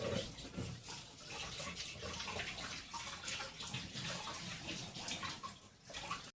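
Tap water runs steadily into a basin as fish are washed clean, a continuous close splashing with small fluctuations and no talk.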